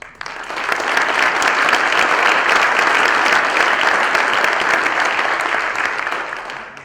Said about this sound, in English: Please give a round of applause for all these sponsors.